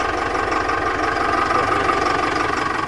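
A truck's diesel engine idles close by after being started, a steady, even rumble with a rhythmic low knock and no voices over it.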